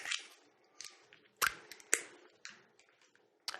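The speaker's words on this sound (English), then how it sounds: "Now, in order to test this, I'll have to open my corn syrup." A bottle of corn syrup is opened in a small chemistry setup, with a series of quiet plastic clicks, snaps and crinkles, close and sparse, and nobody speaking.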